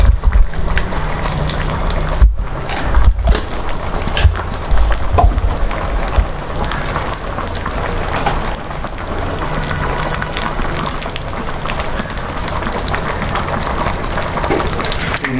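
Mustard seeds splutter in hot oil as tempering for carrot in a Kerala olan, a dense, continuous crackle and popping that stays loud and busy throughout with a few sharper knocks, no talking.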